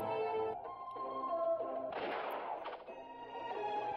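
A cannon booms once in the strategy war game European War 5: Empire, a brief crashing blast that rises over continuous game music.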